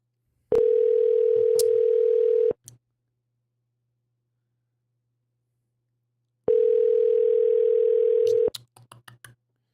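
A telephone tone sounds while a call is placed to an assembly member's office: two steady two-second tone bursts separated by several seconds of silence, each followed by a few faint clicks.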